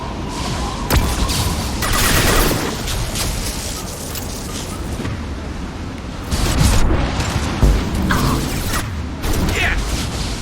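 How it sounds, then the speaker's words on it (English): Flashbang grenades and gunfire during combat in Mass Effect 2, heard as bursts and booms over continuous rumbling battle noise, loud and dense, with several sharp impacts clustered near the middle. "Flashbangs!"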